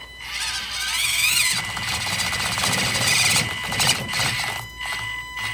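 A tiny SCX24 RC crawler's electric motor whines and revs hard as the truck climbs over an obstacle, a steady buzzing drone with gear chatter and surges in pitch, loud and close with no talking.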